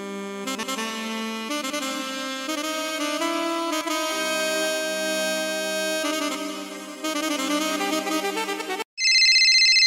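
A phone ringtone plays a loud, close electronic melody of sustained tones that changes pattern partway through, then switches abruptly to a brighter ringing tone at the end.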